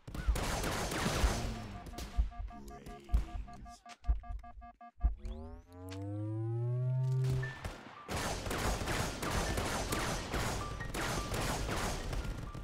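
Gunfire in a VR shooter game, rapid bursts of sharp shots crackling near and loud, broken by a pause with a swooping tonal electronic effect before the dense firing resumes.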